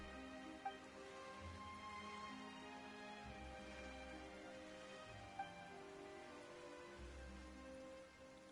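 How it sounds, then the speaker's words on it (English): Rain falls steadily in Genshin Impact, a soft, even patter of drops running beneath the game's background music, fairly quiet and with no speech. "Why is it raining all of a sudden?"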